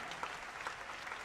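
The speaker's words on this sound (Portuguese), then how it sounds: "dê um forte aplauso ao Senhor" A church congregation at a Portuguese-language evening worship service claps in a dense, steady burst of applause, loud and close, with no speech over it.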